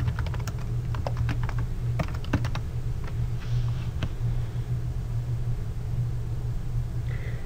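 Quick bursts of keystrokes on a computer keyboard as a search is entered, irregular clicking clusters over a steady low hum, no talk.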